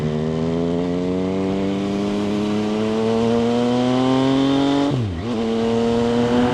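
MV Agusta Brutale 800 naked motorcycle engine under way, a steady loud harmonic drone climbing in pitch, then a sharp drop around a gear change before pulling up again.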